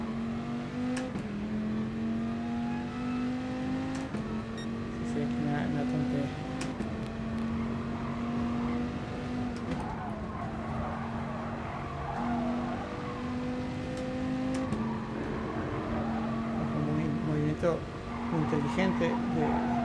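A Dodge Viper race car engine in GT Sport on the Dragon Trail circuit drones and revs through repeated upshifts, a steady mid-pitched roar with tire squeal while someone talks over it.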